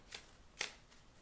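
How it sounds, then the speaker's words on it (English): Two quick riffles of a tarot deck being shuffled, each a short crisp papery burst, close and fairly quiet with near silence between them. "we're going to go ahead and shuffle the deck"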